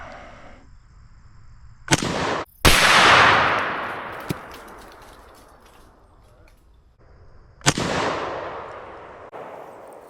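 Two loud Chinese SKS rifle shots in 7.62x39 fired outdoors at a pumpkin, each a sharp crack followed by a long rolling echo, several seconds apart.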